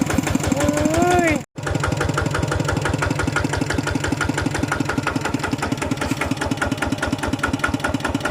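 A motorcycle with its original engine and frame idles close by with a steady, even, rapid thumping rhythm. A voice is heard briefly at the start, and the sound drops out for a moment before the idle continues unchanged.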